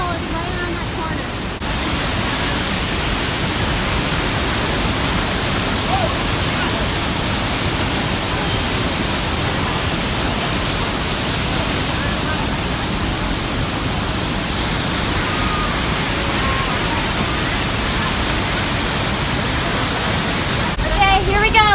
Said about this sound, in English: the waterfall is right around that corner.